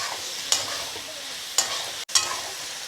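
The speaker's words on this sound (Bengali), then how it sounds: "আমি এইভাবে অল্প অল্প জল দিয়ে একটু কষিয়ে নিব।" Dhoka masala sautéing with a splash of water, a steady soft sizzle broken by three or four sharp stirring scrapes at roughly one-second intervals and a brief hush near the end, with no talking.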